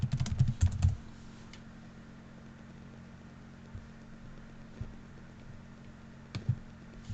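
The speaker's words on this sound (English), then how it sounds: "I'm going to type as well." Typing on a computer keyboard in a quiet room: a quick cluster of key clicks at the start, then scattered single taps over a low steady hum.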